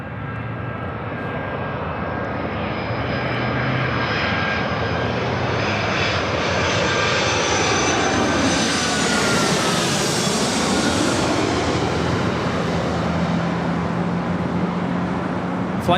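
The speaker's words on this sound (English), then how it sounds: "we have a Queen taking off on the south side" Boeing 747 jumbo jet, called the Queen, taking off from the south side at Los Angeles LAX airport, a loud continuous jet engine roar that builds and sweeps past with a falling whine, heard from a distance across the airfield.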